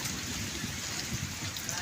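Rain falls steadily as a soft, even patter during the Bihu season, with no voices heard.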